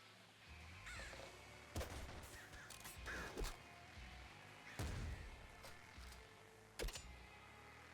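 Crows cawing in the video game Nuclear Throne, several loud, sharp caws bursting out at irregular intervals over a busy, steady game soundscape with gunfire-like pops.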